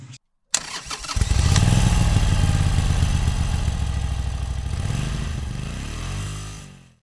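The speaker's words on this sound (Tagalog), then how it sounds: "susolusyon na natin yung konting ingay ng timing chain natin mga idol" A motorcycle engine starts up and idles loudly and close by, holding a steady running note with a rattling timing chain noise in it before the revs drop off near the end.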